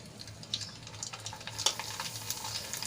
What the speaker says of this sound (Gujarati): તો આપણે પાપડને તળી લઈએ